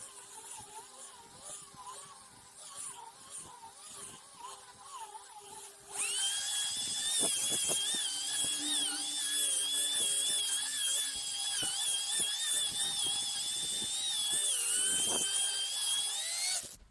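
Car polishing machine buffing lacquer at 2000 rpm, a high-pitched electric whine that kicks in abruptly partway through and holds steady and loud, after a quieter stretch of faint background hum.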